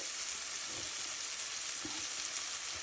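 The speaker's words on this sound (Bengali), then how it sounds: "জল দিয়ে এটাকে ভালোভাবে নেড়ে চেড়ে নেব তারপর আমি মশলাটাকে ভালোভাবে কষিয়ে নেব" Spice paste with a splash of water frying in a pan, a steady close sizzle with soft scraping from stirring, no voices.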